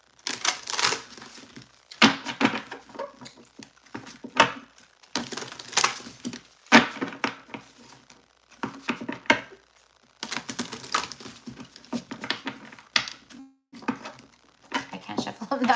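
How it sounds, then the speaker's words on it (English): Large tarot cards being shuffled up close in a series of quick, papery riffling bursts separated by short pauses, repeating steadily throughout. "I can't shuffle them that way,"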